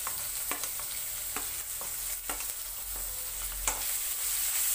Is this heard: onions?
yes